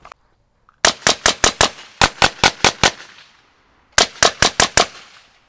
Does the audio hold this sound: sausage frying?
no